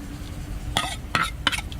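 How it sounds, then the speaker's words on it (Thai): Stirred corn and yanang leaf mixture poured into a pot for a rustic Thai bamboo shoot curry, with a few short scraping and splashing bursts over a low background hum, fairly close. "พอคนให้มันแตกแล้วเขาก็มาเทใส่ในหม้อเลยครับ"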